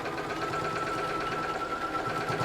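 A sewing machine fitted with a denim needle stitches steadily through fabric, making a continuous fast mechanical whirr and rhythmic needle chatter close up, with no talking.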